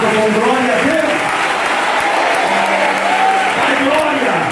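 A church congregation at a Pentecostal conference in Paraíba applauds loudly and continuously, with shouting voices and music tones mixed into the dense clapping throughout.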